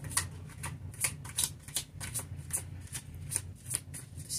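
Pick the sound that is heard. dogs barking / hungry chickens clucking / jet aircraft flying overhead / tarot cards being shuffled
tarot cards being shuffled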